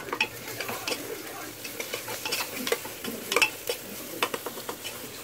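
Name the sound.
stirring ginger garlic paste with frying onions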